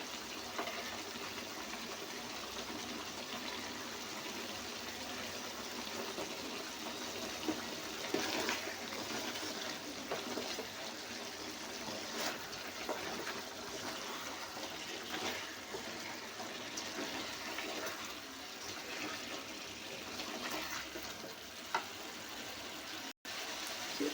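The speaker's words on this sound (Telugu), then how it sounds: "నీళ్ళు అనేవి తగినన్ని పోసుకునేసి, మీకు చిక్కగా గ్రేవీ లాగా రావాలి అంటే కొంచెం తగ్గించి పోసుకోండి" Water is poured into a pot of homemade chicken curry, making a steady, faint, continuous splashing hiss with no one talking.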